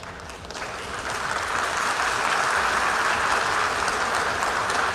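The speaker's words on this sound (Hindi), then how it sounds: "जो लोग बैठे होते हैं, जोर जोर से तालियां बजाने लगते हैं" A seated audience applauds loudly at a political summit, steady dense clapping that swells after the first second and holds without a break.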